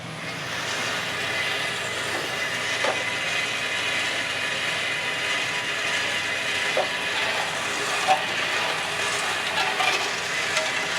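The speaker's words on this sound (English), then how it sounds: "pulling air through here, so it'll immediately cool the beans, and they come out so they don't continue to roast" Cooling machine at a Raleigh chocolate factory drawing air through freshly roasted cocoa beans: a steady, loud broadband whoosh of moving air, with faint scattered clicks and rattles of beans throughout.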